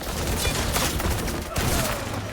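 Dense, close gunfire rattles in the game Highguard, a loud continuous fusillade of overlapping shots with a brief lull before firing resumes.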